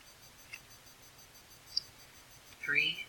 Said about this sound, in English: We're going to grab our calculator and we're going to type in exactly what you see.